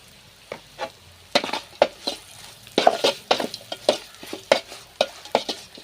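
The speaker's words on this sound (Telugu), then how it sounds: "ఇలా జస్ట్ ఒక్క నిమిషం అలా కారం పచ్చాసిన పోయే వరకు యాగనివ్వాలి" Chili powder and coriander fry in a pan as a spoon scrapes and stirs in quick, repeated strokes, each stroke a sharp close scrape over a faint sizzle.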